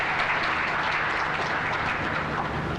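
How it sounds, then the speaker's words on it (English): An audience at a literary panel discussion claps steadily, dense and sustained applause filling the room without a break. "let's give a round of applause also to"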